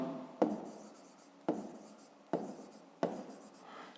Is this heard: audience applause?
no